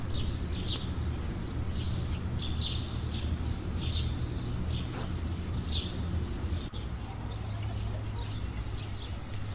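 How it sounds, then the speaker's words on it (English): Repeated short bird chirps and calls from begging birds nearby over a constant low outdoor hum, steady throughout, on the St Lawrence waterfront. "I stopped for some lunch with some begging birds."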